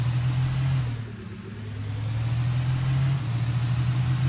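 A truck engine in Farming Simulator 19 drones loudly and steadily, dipping briefly as the revs drop, then climbing back to a sustained, even roar with no voices over it.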